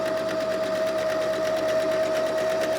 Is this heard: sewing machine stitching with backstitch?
yes